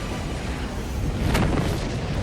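Artillery explosions in the video game Helldivers 2: a dense, loud rumbling barrage with one sharper blast near the middle, booming continuously from start to end.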